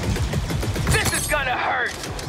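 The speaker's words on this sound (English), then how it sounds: "Suppressing fire!" Suppressing blaster gunfire in the Star Wars: Hunters video game, rapid bursts of shots under an energetic voice shouting in the game, ending with a whooshing, warbling effect.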